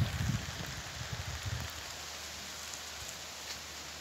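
Rain pours down in a steady, dense hiss, with a few low thuds near the start and no talking.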